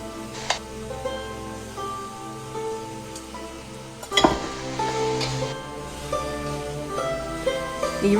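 Beef with hoisin, soy sauce and noodles fries in a hot wok with a steady, dense sizzle. Occasional clanks and scrapes of stirring break through, with a sharp louder burst partway through.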